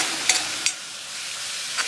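Chilli and onion fry in a pan for a Thenkasi-style sambar, a steady close sizzle broken by a few quick clinks of stirring.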